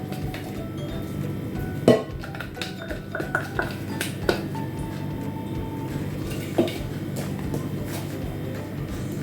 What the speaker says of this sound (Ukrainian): І викладаємо ось поки що на тарілку.